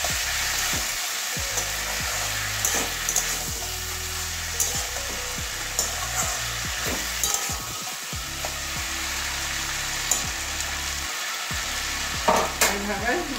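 Potato and kundru pieces fry in a pan under a continuous hiss, while a spoon stirs with repeated scrapes and taps at an uneven rhythm, close by and moderately loud, with no voices.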